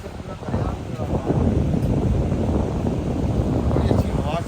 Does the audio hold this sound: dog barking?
no